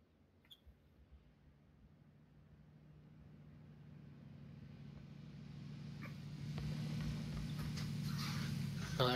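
Vehicle engine in the video game PUBG: a low motor hum that grows steadily louder as the car draws nearer, with a few faint clicks early on.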